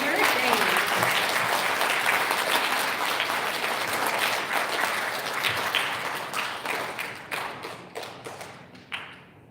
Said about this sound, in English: Big round of applause for third grade.